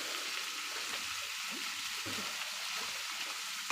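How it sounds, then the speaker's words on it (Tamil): Chopped brinjal and mango sauté in a pan for a fish curry. The pan gives a steady, close, even sizzle with faint stirring scrapes and no voices. "உப்பு சேர்த்துட்டு காய் கொஞ்சம் நல்லா வதக்கிக்கலாம்."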